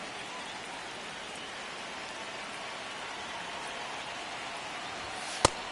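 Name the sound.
rain in the video game MLB The Show 26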